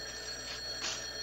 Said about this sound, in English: Hey, that's our phone.